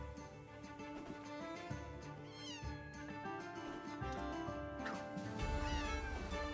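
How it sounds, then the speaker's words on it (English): A cat meows several times in an indie game trailer, drawn-out rising and falling cries over steady music, moderately loud, with no talking. "Of course it would be a cat."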